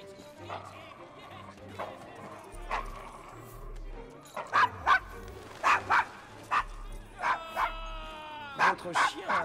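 Dog barking in Assassin's Creed Syndicate, set in Victorian London: a string of sharp, fairly close barks and yips over game ambience, growing louder toward the end, with speech woven through.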